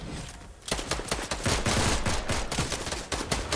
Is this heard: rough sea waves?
no